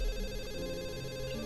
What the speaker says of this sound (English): it becomes obvious that the sound's coming from her phone